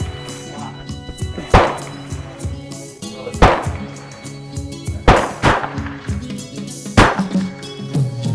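A VZ61 Scorpion kit-build firearm fires hand-loaded rounds: five sharp, loud single shots spaced roughly two seconds apart, with handling clatter and faint ambient noise between them.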